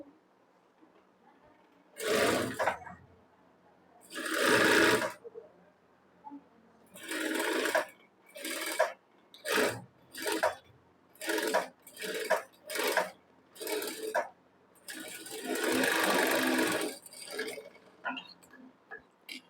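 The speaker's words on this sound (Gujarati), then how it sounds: "હવે જે આપણે ગળું ડ્રો કર્યું છે એની બાજુમાં આપણે સિલાઈ લગાડવાની છે." A sewing machine stitches fabric for a princess-cut blouse beside the neckline. Its whirring runs come in repeated short and longer bursts, close and fairly loud, separated by brief silences.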